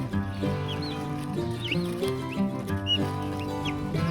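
Baby turkeys peep in short, rising chirps, scattered and fairly faint, over a steady droning tonal background.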